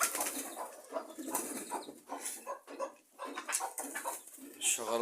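Pigeons in a pigeon house, with chickens kept nearby, make faint, close, scattered bird sounds and brief wing flutters during feeding with broken rice.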